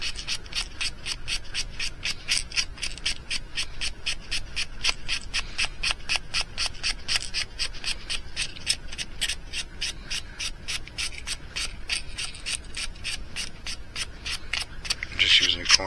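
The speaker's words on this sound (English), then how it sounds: "Is actually shaping the plastic more than it's sanding the paint right now" Steady, rapid scraping strokes of sandpaper shaping a small plastic mouse fishing lure, close and continuous with an even back-and-forth rhythm.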